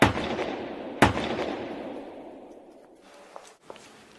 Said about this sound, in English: you would have heard 2 shots ring out